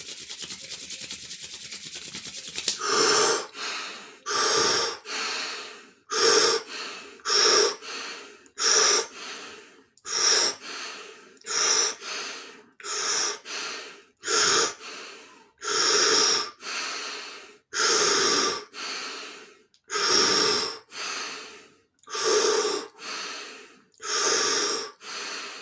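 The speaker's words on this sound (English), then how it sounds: "And one more time, breathing however you want." Rhythmic group breathing during a kundalini yoga workshop: about twenty strong, breathy exhalations and inhalations in an irregular pulse, each a loud rushing burst with short gaps, following a quiet start and with no talking.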